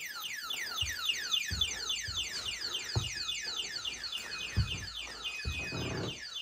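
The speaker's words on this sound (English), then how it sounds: "because I'm not liking that alarm" A repeating electronic alarm wails through an abandoned wedding venue, its rapid falling sweeps looping continuously at a loud level, while occasional thuds and footsteps sound nearby.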